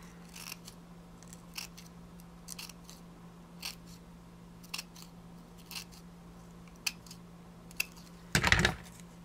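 Scissors cut into paper flower petals with crisp, evenly spaced snips about a second apart, close and alone, then a short burst of rustling at the end.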